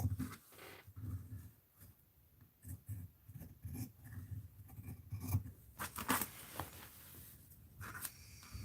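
Scissors snipping through fabric during fabric art journal work, a run of close crisp cuts and rustles with a few louder bursts near the end, over a low steady background hum and no talking.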